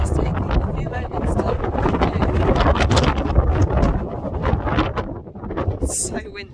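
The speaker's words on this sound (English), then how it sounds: "It's so windy." Strong wind gusts roar and buffet across a snowy Peak District hilltop, loud and close, battering the microphone in turbulent bursts that ease slightly near the end.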